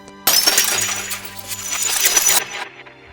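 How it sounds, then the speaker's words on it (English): Glass shattering, layered as a crystallization effect in a Final Fantasy VII limit break sound design, a loud sudden crash of breaking glass with bright tinkling shards ringing for about two seconds before cutting off, no voices. "This glass breaking sound is working really well for a crystallization sound."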